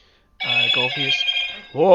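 A telephone rings with a loud, close electronic trill that repeats in quick pulses for over a second. A brief voice cuts in at the end.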